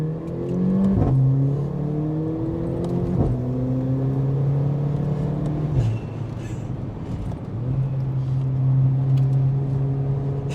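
A remapped Mercedes-Benz A45 AMG running about 410 horsepower with four-wheel drive accelerates hard, its engine note climbing through the gears in several rising sweeps separated by quick shift dips, loud and close throughout.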